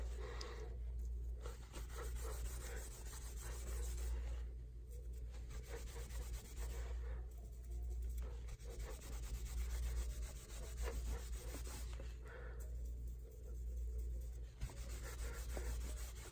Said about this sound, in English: Just kind of apply that and rub it off.